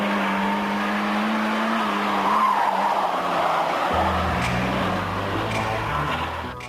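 A Renault 19 16S with a 1.8-litre 16-valve engine is driven hard, its engine droning steadily while the tires squeal and skid continuously, loud and close.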